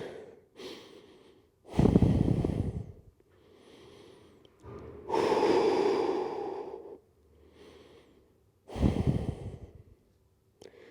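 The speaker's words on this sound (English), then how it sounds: "Just breathe naturally, relax." A person breathes audibly while holding a T-spine stretch in a mobility flow, with three loud, breathy exhales spaced several seconds apart and softer breaths in between, close and clear with no talking.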